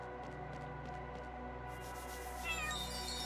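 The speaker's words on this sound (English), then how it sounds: "Oh, lol, cat." A cat in the video game Chained Echoes meows over steady game music, with a brief, clearer meow near the end, and no talk.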